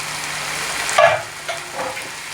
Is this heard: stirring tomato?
yes